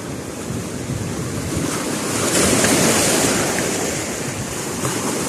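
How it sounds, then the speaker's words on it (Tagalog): Steady roar of wind and surf as waves slap against a fishing boat hull at sea, swelling louder midway before easing back, no voices. "Sinasalpok tayo ng alon."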